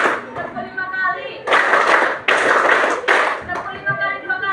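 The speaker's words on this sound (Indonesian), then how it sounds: "Tepuk sekali, tepuk 2 kali, tepuk 3 kali, tepuk 4 kali, tepuk 5 kali" Fourth-grade classroom children clap hands together in counted groups, loud bursts of unison claps separated by short gaps, with a teacher's voice calling the counts between them.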